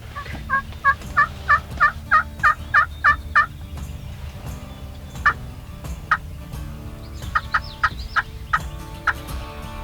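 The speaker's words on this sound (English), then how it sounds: "There's more birds gobbling" Wild turkeys gobbling outdoors in Indiana during a turkey hunt: a quick run of about ten loud gobbles, then scattered single gobbles over faint background noise, with no talking.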